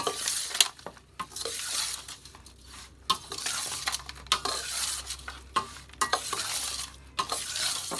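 Fish pieces being mixed by hand with chilli and spices for a tawa fish fry, giving soft, irregular wet squelching and stirring noises with occasional light clinks of a bowl, close and steady with no talking.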